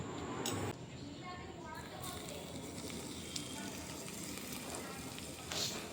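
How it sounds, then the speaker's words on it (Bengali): Hot mustard oil poured over a salted Maggi-style spice mix, giving a continuous broad sizzle and hiss that swells briefly at the start and end, steady and close throughout. "আর এই মশলার মধ্যে দিয়ে দেবো নুন গরম সর্ষের তেল"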